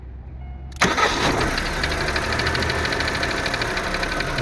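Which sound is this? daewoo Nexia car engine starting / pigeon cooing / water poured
daewoo Nexia car engine starting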